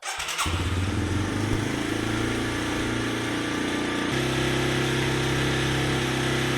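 A pit bike engine starts with a short crank burst, then settles into a steady, loud idle. The idle note shifts pitch partway through, close by, with no talking.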